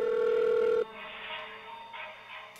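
A mobile phone rings from the back of a dead body's head in a horror story, a steady, bright electronic tone that cuts off abruptly after under a second, leaving a quieter, hollow ambience.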